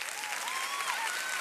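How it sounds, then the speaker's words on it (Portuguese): A church congregation applauds steadily for volunteers in blue and black at a service, dense and sustained clapping filling the room with no voices over it. "você pode dar uma salva de palmas para esse povo?"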